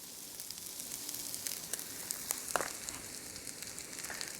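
Minced garlic sizzling in a pan for Italian drunken noodles, a soft, low-level frying crackle with scattered small pops and one brighter burst near the middle.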